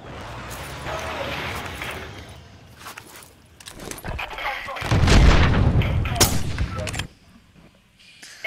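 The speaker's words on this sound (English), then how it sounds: "that gun sounds like a BB gun going off" Gunfire in a Call of Duty match comes as repeated sharp shots and a heavier burst near the middle, with players talking over it.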